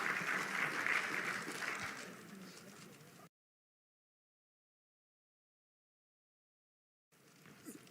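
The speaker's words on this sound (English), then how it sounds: "Ladies and gentlemen, please, a big round of applause for the chairperson of the South African Football Association, Dr. Denny Jordan." Audience applause greets the chairperson of the South African Football Association at a Bafana Bafana event: a dense burst of clapping for about three seconds, then a sudden cut to silence before more applause resumes faintly near the end.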